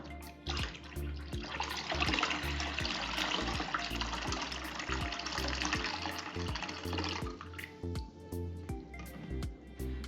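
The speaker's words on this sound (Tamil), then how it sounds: "இளநீர் சேர்த்துக்கலாம் இளநீரையும் வடிகட்டிக்கலாம்" Tender coconut water is poured through a strainer in a kitchen, making a continuous loud splashing stream for several seconds. The pour then thins into trickles and drips, with regular clicking ticks running underneath and no voices.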